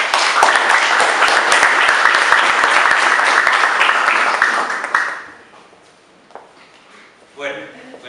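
Loud, dense audience applause welcoming Dr. David Monterrosa to a health workshop talk, sustained for about five seconds before fading into a quiet room with a few scattered claps.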